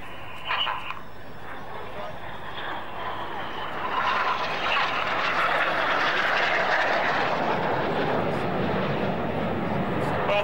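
Red Arrows jets of the synchro pair roar past at an air display, a broad rushing jet noise that swells loudly from about four seconds and stays strong, with a commentator's voice over a public address system throughout.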